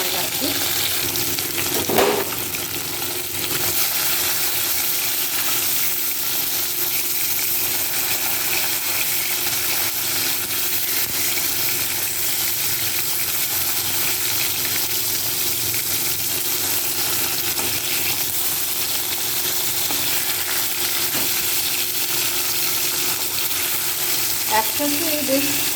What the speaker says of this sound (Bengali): এখনও ভাজা হয়নি মনে হচ্ছে